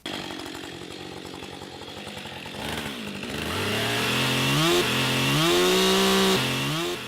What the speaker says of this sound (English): he took the sound effect of a chainsaw and played it on top of a shot of a motorbike